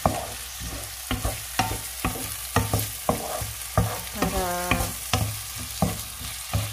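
Chopped tomatoes are stirred in a frying pan while cooking chicken bopis, with repeated utensil scrapes and clacks at a steady rhythm over a continuous background sizzle.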